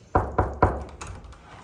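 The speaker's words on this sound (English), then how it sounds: "Let's knock and take a look." Three sharp knuckle knocks on the door of a NoMi junior suite at the Park Hyatt Chicago, evenly spaced and close, followed by a couple of fainter taps or footsteps as the door is approached.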